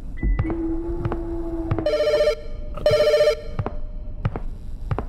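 Telephone ringing in a video game, two loud, close bursts of an electronic ring, each about half a second long and a second apart, over soft background clatter with no speech.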